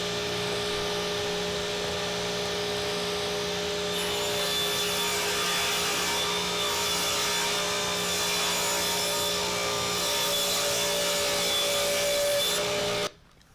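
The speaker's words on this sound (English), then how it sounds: "it's a good time to run it through the table saw and just take a little bit off each side" Table saw cutting a thin strip off each side of plywood corner shelf pieces: a steady, loud whining buzz of the blade through wood that holds for over twelve seconds, then cuts off sharply at the end, with no talking.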